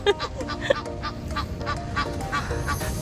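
Geese or similar fowl honk in a repeated, irregular series of nasal calls, moderately close, over a steady outdoor background.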